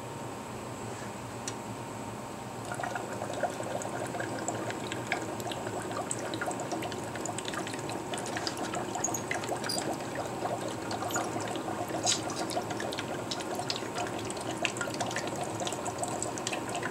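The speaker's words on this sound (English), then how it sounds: "I have to put the fish bubbler in there too," An aquarium fish bubbler agitates a homemade zinc plating bath for steel, giving a steady bubbling, trickling wash of liquid that runs continuously and close, with no voices.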